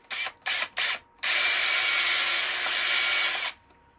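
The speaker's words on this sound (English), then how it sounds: "I'm going to drill the holes first" Power drill boring a hole in wood for a turned cheese knife handle, with three short bursts followed by one long sustained whine that cuts off sharply, close and loud.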